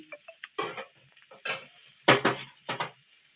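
Onion stalks fry in a pan close by. A few sharp utensil scrapes and clinks come in short bursts over a faint sizzle.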